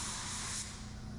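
A paint spray gun hisses in a steady, close, loud blast of air and atomized paint that briefly softens near the end of the short burst.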